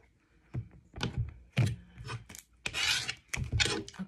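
Tarot cards being shuffled by hand, giving a series of soft papery riffles and rubs in irregular bursts, close up, with no talk.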